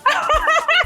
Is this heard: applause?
no